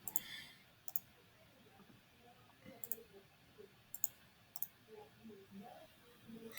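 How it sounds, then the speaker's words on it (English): A computer mouse is right-clicked in CAD software, giving about eight crisp, close clicks at irregular intervals, some spaced well apart and a few in quick pairs, over a quiet room with no speech. "Just right-clicking on them with nothing else selected and hitting construction."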